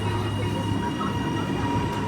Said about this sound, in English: Stand clear, the train is about to depart